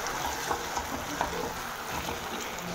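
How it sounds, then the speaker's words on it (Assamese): Tomato paste being stirred into a sizzling mixture in a pan, with a steady fry crackle and occasional scraping clinks of the spoon, close and alone. "বিলাহী পেষ্টটো দি দিছোঁ। এতিয়া ধুনীয়াকৈ মিলাই লৰাই দিম।"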